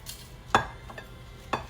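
A knife cuts open a baked potato, giving two sharp, close knocks against the plate with a faint tap between them over a low steady hum.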